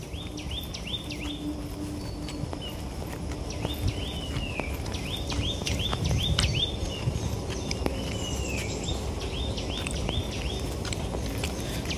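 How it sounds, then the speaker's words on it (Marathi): Birds chirp and whistle in short, repeated rising notes, a few at a time, in quiet countryside near Vehloli Phata beside a large tree. A faint background hum and soft rustling sit underneath, and no one speaks. "मस्त पक्ष्यांचा आवाज येतोय"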